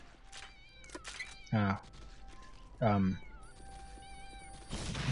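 Cats meow loudly in the shooter game Postal 2, with two strong close meows a second apart amid game sounds and a brief spoken exclamation.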